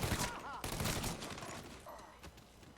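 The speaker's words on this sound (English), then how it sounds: "Let's gun these bastards down and get it over with." Rapid gunfire from the Mafia 3 video game, a dense burst of shots at the start, then continuous fainter firing over a busy game soundscape.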